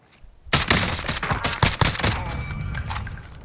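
Rapid close gunshots from a Call of Duty Warzone match, a loud burst of sharp cracks starting suddenly and rattling on for several seconds, then fading into a lingering tail.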